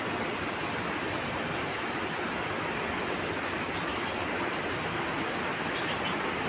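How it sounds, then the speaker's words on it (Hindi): Heavy monsoon rain pours down in Shimla, a dense, even hiss that runs unbroken and fairly quiet throughout, with no voices. "अब तो जी बारिश स्टार्ट हो चुकी है, बहुत भारी बारिश हो रही है।"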